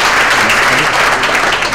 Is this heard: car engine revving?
no